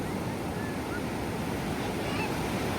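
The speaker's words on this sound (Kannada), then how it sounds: "ದೊಡ್ಡ ಅಲೆ ಬರ್ತಾ ಇದೆ" Sea waves wash onto the beach at Gokarna in a steady, full roar of surf, with light wind noise and faint voices in the background.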